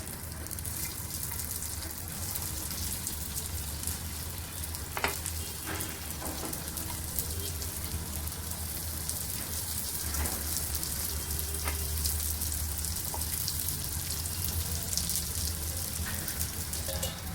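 Sabudana appe batter frying in an oiled appe pan, giving a steady close sizzle with crackling and occasional sharp pops, continuous and fairly loud with no voices.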